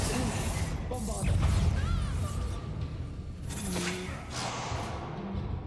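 Bombarda blasting spell cast in Hogwarts Legacy amid a duel, with crashing, shattering impacts and whooshing magic effects layered over steady background combat noise.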